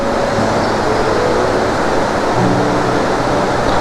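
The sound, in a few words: flowing water stream in monsoon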